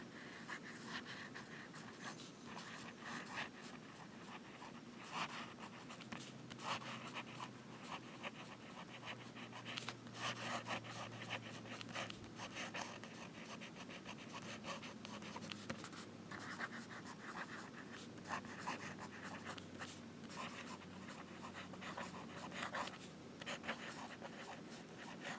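A fountain pen with a 14K Hinze gold nib writing on paper, close soft scratchy strokes in quick irregular bursts, faint and intimate against a quiet room.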